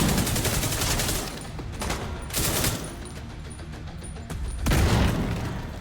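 Rapid bursts of gunfire and booming explosions in the video game The Division 2 repeat loudly, with sharp blasts separated by brief quieter gaps.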